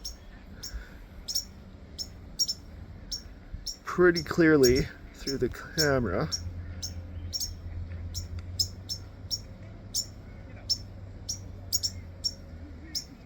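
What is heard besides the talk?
white-crowned sparrows calling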